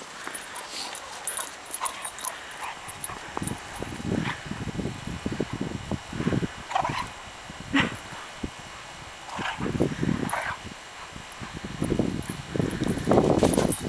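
A dog scuffles and plays in snow nearby, with short yips, whimpers and panting bursts scattered irregularly over the clip.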